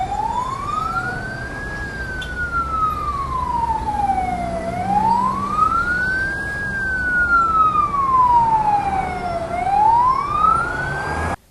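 Wailing ambulance siren rising and falling in slow sweeps through city traffic in San Salvador, loud and steady for the whole stretch with a low traffic rumble underneath.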